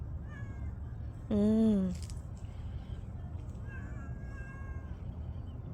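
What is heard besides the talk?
feral backyard cat meowing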